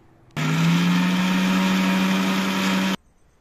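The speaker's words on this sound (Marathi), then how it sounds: "त्यानंतर सकाळी मिक्सरमधून कलर बारीक करून घ्यावा" A kitchen mixer grinder whirs loud and steady as it grinds dried homemade food colour into powder. The motor starts abruptly, runs for about two and a half seconds and stops sharply, with no talking.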